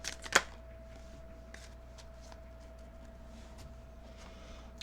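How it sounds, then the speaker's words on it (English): A brief riffle of tarot cards being shuffled, a short soft burst near the start, then only a quiet room with a faint steady hum. "Let's get your money card"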